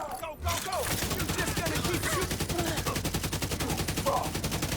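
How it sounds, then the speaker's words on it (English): Rapid, continuous automatic gunfire from a shooter video game rattles in a steady, fast rhythm, loud and close, with faint voices underneath. "You're just gonna keep shooting."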